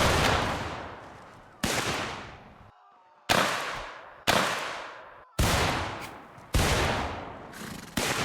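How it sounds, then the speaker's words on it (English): Musket volley fire in Mount & Blade Warband during an American Civil War battle: about six loud, separate volleys, each a sharp crack that rolls off into a long, fading echo, spaced a second or so apart with no talking. "We'll just give them intermittent volleys here for a little bit, and then we'll tell the boys to open fire."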